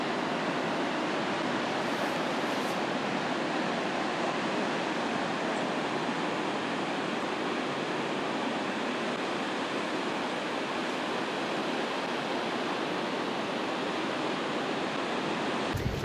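Steady rushing of creek water flowing down from the mountains at a backpacking campsite, a dense, unbroken wash of sound that stays close and even throughout, with no voices.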